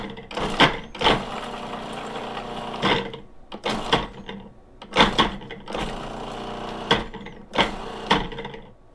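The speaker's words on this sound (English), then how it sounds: "Instructions say to blend until it emulsifies" A blender pulses through tomato pizza sauce for a pan pizza in several loud, grinding bursts of about a second each, separated by brief pauses.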